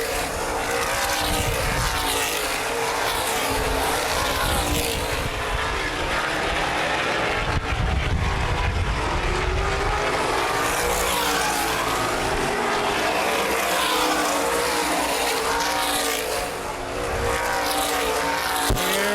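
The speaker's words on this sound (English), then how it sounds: "Ling with a stronger car down the straightaways" Continuous loud roar of sprint car engines as cars speed around a dirt track, the revving rising and falling as they pass, with no pauses.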